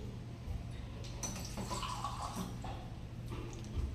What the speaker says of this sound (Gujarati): અને પાછું હું થોડું પાણી સાથે ઉમેરું છું.